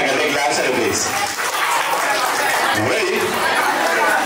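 Guests at a cradle ceremony clap for a round winner, a steady, dense applause that runs the whole time with crowd chatter and voices mixed in.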